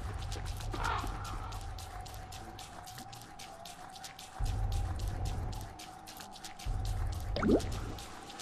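Steady rainfall in the game Don't Starve, over a swamp, patters with rapid, even drips over a low, droning hum that swells and fades.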